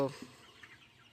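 A chicken on a small poultry farm gives a brief cluck at the start, followed by faint lower clucking and barn murmur over about a second.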